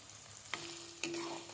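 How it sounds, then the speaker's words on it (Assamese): Green chillies frying with ginger and garlic in a pan over a low gas flame, a soft steady sizzle with two brief stirring clinks and a faint hum, no voices. "অকণমান লৰাই গেছটো ল' ফ্লেম কৰি অকণমান ভাজি ল'ম।"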